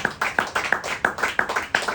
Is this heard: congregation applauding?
yes